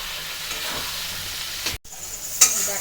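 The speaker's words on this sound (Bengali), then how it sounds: "মশলার সাথে তো ডালটা ফ্রাই করা হয়ে গেল" Chana dal frying with spices in oil in a pan, a steady close hiss of sizzling with soft stirring scrapes, one brief break, then a sharper burst of sizzle near the end.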